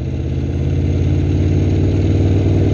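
A 2016 Aprilia Tuono V4 1100 RR motorcycle engine runs at a steady, loud, close throb with an even pulsing rhythm and no voices.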